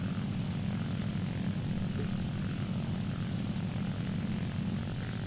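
Propeller airplane engines from the World of Warplanes game drone in a steady, loud, continuous hum that holds level throughout, with no voices.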